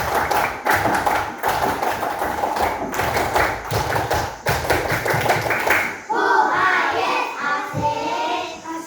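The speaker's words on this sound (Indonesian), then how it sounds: "2 kali tepuk pramuka" A group of scouts claps the two-round scout clap in a quick, tight rhythmic pattern, sharp repeated claps in sets, then the beat breaks off into a burst of excited voices.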